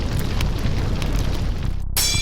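A loud, sustained explosion in an animated fantasy movie during a palace battle: a dense roaring boom that fills everything for nearly two seconds, then cuts off abruptly into a hissing tail.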